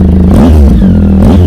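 A Triumph Tiger 800 motorcycle fitted with an Arrow aftermarket exhaust revs hard and close, rising and falling through two loud throttle blips over a steady, rumbling engine note.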